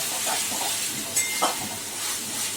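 Onion, ginger and garlic paste fries in oil for a Bengali chicken curry, giving a continuous hissing sizzle with a few brief louder spits and crackles.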